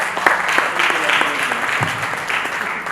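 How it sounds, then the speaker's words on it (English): An audience at a filmmakers' talk on intellectual property breaks into steady applause, dense clapping heard close for the whole stretch, with a voice briefly audible beneath it. "Let's clap."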